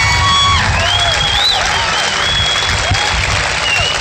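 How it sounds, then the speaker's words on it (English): A crowd applauds military veterans at a Tea Party gathering, loud and steady throughout, with a dense wash of clapping, scattered whistles and a few cheers. "Give them a round of applause."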